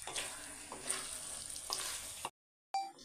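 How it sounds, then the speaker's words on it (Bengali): Chilli chicken sizzles steadily in a pan while arrowroot-thickened water is stirred through it, with spoon scrapes over continuous frying hiss before the sound cuts out briefly and returns. "এবার অ্যারারুট মেশানো জলটা এর মধ্যে দিয়ে দিলাম। চিকেনের সঙ্গে এটা মিশিয়ে নিলাম।"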